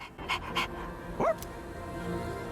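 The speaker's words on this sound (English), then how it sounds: "You can pet the dog in Persona 3 Reload." Koromaru, the dog in Persona 3 Reload, gives a few short yips and a rising whine over soft game background sound, with brief bursts early and a clearer vocal sweep near the middle.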